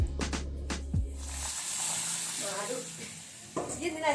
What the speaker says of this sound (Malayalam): ഇനി ഇതിലേക്ക് ആവശ്യമായിട്ടുള്ള പപ്പടം ഒന്ന് കാച്ചിയെടുക്കുകയാണ്.